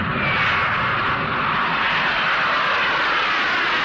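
An Antonov An-124 heavy transport jet roars steadily and loudly in a broad, unbroken engine drone, close and sustained throughout with no talk.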